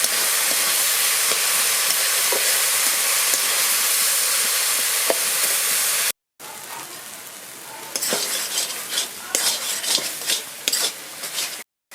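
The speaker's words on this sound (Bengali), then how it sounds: "ভালো করে মশলাটা কষিয়ে নিচ্ছি" A spice mix with ginger, garlic, chilli, turmeric and cumin powder is stir-fried with potatoes in a pan, giving a loud, steady sizzle, then a brief silence followed by scraping stirs and crackling hisses.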